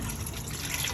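Engine oil from a Honda Pilot pouring into a drain pan in a steady, continuous gushing stream, close and fairly loud, with no talking.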